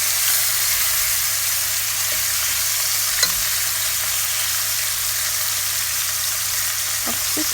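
Chicken breast fries in a pan with a steady, close sizzle that runs throughout, broken by a few faint clicks and stirring touches.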